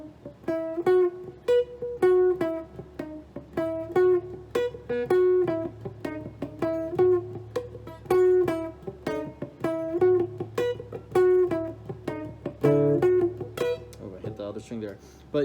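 Electric guitar playing a riff, a repeating rhythmic phrase of plucked notes and chords with a steady groove, played alone and close for a long stretch.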